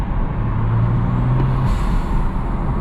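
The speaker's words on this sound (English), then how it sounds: "that blow-off valve you guys hear is a little bit different than the one in my 6 Series" A turbocharged BMW F30 335i, tuned to about 480 horsepower, drives under steady engine drone as its blow-off valve vents once in a brief hiss, heard from inside the cabin with windows cracked.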